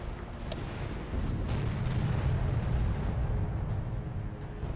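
Naval gunfire from warships in the naval warfare game Victory at Sea Atlantic: a steady, rumbling barrage of heavy booms that swells after the first second and holds dense and loud throughout.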